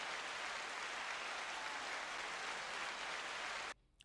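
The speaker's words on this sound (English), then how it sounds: "let's give them a round of applause" Faint, distant applause, a dense even patter of clapping that cuts off abruptly near the end.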